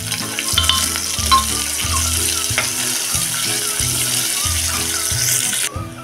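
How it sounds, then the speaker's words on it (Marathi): Sliced onion frying in a pan sizzles steadily close up, broken by regular clatter and scraping as it is stirred and turned. "कांदा आता छान मऊसर होईपर्यंत आपण हा परतून घ्यायचा आहे।"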